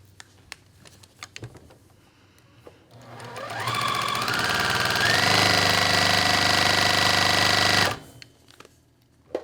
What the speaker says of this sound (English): And we're going to sew along that seam